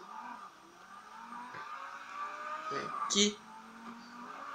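A car in a GTA race revs and skids through a drift, with engine whine and a short tire screech. Someone talks over the game sound.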